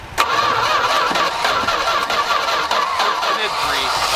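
A Dodge W250 truck with a 318 engine cranking and catching, then running rough and loud nearby with revving surges as the throttle is tapped. Voices talk faintly over it.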